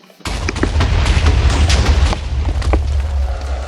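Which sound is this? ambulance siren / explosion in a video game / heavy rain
explosion in a video game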